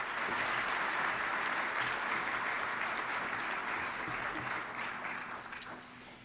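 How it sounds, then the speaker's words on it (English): An audience applauds steadily at an award lecture as the honoree walks up to the podium, a dense wash of clapping that fills the room and tapers slightly toward the end. "we should all applaud Chris as he comes up"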